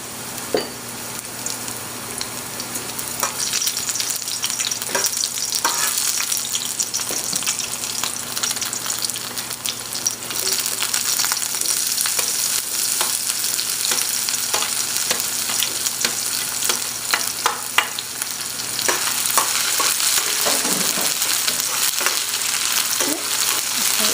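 Garlic and one or two chillies sizzling in hot oil for a Singaporean chicken dish, a loud, continuous frying crackle with scattered sharper pops and stirring clinks throughout, no voices.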